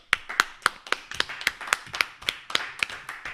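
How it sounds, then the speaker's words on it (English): A steady run of sharp hand claps, about four per second, crisp and fairly close with no talking. "Clap it up."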